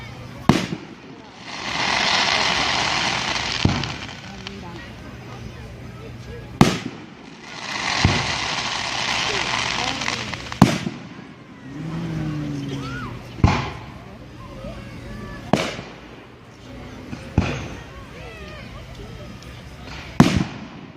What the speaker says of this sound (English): That was like fireworks going wrong.